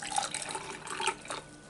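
Hot water poured into an MRE lemonade drink pouch, a short soft watery trickle and splash lasting under two seconds, close by with no talking.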